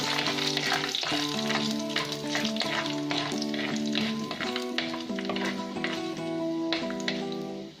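Dried red chillies fry in oil with whole urad dal, making a loud, continuous crackling sizzle with brief stirring bursts, while tonal background music plays underneath.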